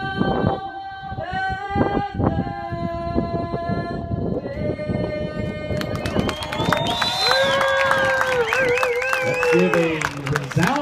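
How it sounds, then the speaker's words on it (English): After a national anthem performance, an audience at the event applauds and cheers, with dense clapping and shouts mixed with lingering singing and voices, loud and crowded. "Give a resounding clap for Miss Hannah"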